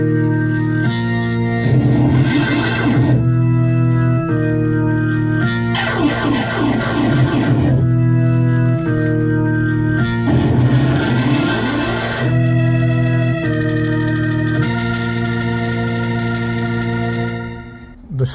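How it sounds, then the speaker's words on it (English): A real Hammond organ recorded with three microphones plays layered sustained chords, and fast runs on the keys come in bursts over them. The full, continuous tone carries a touch of reverb throughout. "These are 3 channels because it's a real Hammond organ and we recorded with 3 microphones."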